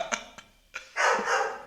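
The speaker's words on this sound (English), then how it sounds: "Guys, that's my dog again joining us on the podcast." A dog barks several times nearby, a few sharp single barks followed by a longer, louder burst of barking, with no talking over it.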